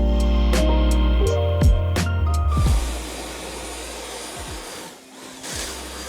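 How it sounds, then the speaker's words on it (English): A Kress cordless backpack leaf blower with an 11 amp hour battery runs loudly with a tonal whine that shifts and spins down, then a quieter airy rush, close by with no talk. "So we have the Cress backpack blower with the 11 amp hour battery on the back."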